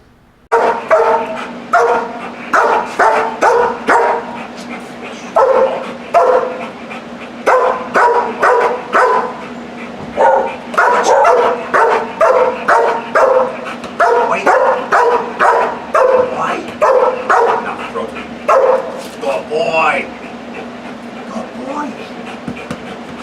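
A protection dog barks repeatedly at a stranger in a public training session, loud close bursts in rapid runs with short pauses, a steady low hum beneath and some voices in the background.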